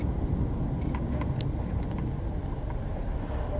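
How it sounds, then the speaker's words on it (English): A car's steady low road rumble as it edges through traffic, a continuous broadband drone with faint wind buffeting and a few brief higher clicks, no voices. "Squeaking through traffic here."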